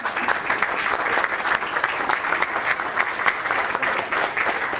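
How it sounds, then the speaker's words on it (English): A room of people at a meeting gives a round of applause, an even, lively stretch of many hands clapping from start to finish with little pause. "nice round of applause"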